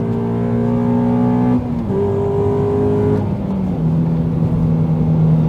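A car accelerates hard around a race track at a track day, its engine a loud, steady droning tone that drops and rises again at gear changes, heard close and continuous without talk.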